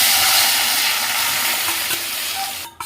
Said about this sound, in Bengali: এবার আগে থেকে সেদ্ধ করে রাখা সবজি সহ মুগ ডালটা দিয়ে দেবো